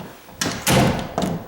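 A repaired, previously sagging door swinging shut with a solid closing thud followed by a second softer knock, close by and alone.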